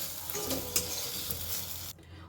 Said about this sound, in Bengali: ওই একই কড়াইয়ের মধ্যে আমি আর একটু সর্ষের তেল দিয়ে দিলাম।